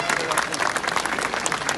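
A crowd at an outdoor political rally applauds loudly and steadily, dense clapping filling the short stretch without a break.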